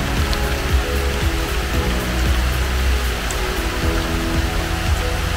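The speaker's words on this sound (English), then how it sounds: "very heavy rain now" Very heavy rain pours steadily over a hillside nature park, a dense, continuous hiss of drops drumming on surfaces with no pauses, loud and close.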